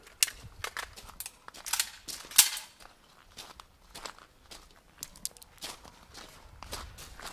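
Footsteps crunch along a shooting range in an uneven walking rhythm, close and fairly quiet, with occasional sharper scuffs and no talking.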